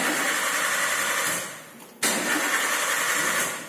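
A Toyota Avanza with an EFI fault gives a steady mid-pitched engine drone. It dips briefly, then resumes abruptly and continues loud and close, with no talk.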